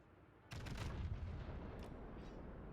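Heavy battleship main guns fire in World of Warships, a sudden loud booming salvo with a long rumbling tail and a few smaller cracks following, no voices.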